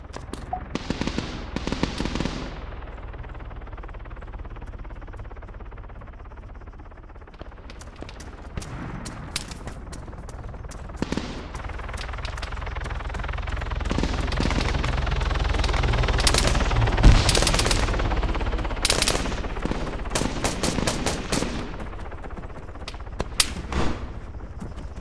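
Gunfire in an Arma 3 battle: repeated bursts of automatic and single shots, some sharp and near, others more distant, in irregular clusters over a steady low background rumble.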